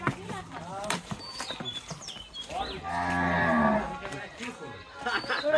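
A grey farm cow bought in a village lets out a long, loud, close moo in the middle, with shorter lowing calls around it and faint bird chirps in the background.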